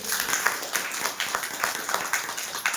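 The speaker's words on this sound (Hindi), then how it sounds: "तो ऐसे राम दूत जैसे माँ भगवती विंध्यवासिनी के बेटे के लिए तालियां तो जरूर हो" An audience at a Hindu religious discourse on Bhagavati Vindhyavasini applauds, steady clapping with distinct individual claps pulsing through a moderate, close wash of hands.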